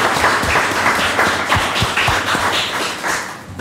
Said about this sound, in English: So I think he deserves a round of applause for doing that.